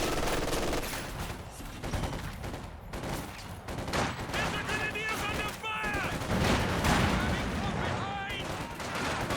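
Bursts of machine gun fire and scattered rifle shots crackle through a Company of Heroes 2 battle, dense and overlapping, under a commentator talking over the action.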